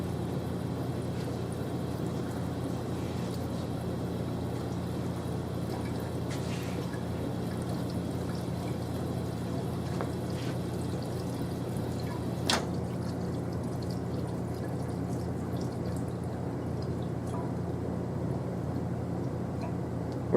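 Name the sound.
water rinsing a sample during grinding and polishing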